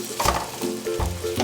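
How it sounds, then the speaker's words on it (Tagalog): Sugar mixed into apple pie filling in a pan, a short burst of close stirring and scraping with light sizzling underneath. "Mag-add na tayo ng sugar. Yan, i-mix lang natin siya na maigi."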